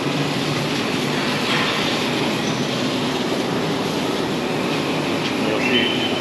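Rotary milking parlor machinery on a large Jersey dairy farm in California, a steady loud mechanical drone and hum that fills the space continuously with no talking.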